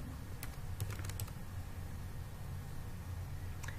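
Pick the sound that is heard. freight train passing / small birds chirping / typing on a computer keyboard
typing on a computer keyboard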